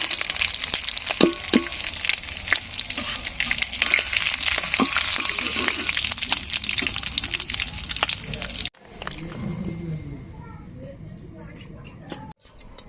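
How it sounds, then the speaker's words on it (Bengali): Pointed gourd (potol) fries in hot oil for a chicken potol dorma, giving a loud, constant sizzle with crackles that drops abruptly to a quieter, softer bubbling near the end. "লাল লাল করে ভাজা হয়ে গিয়েছে, আমি এগুলো তুলে নেব।"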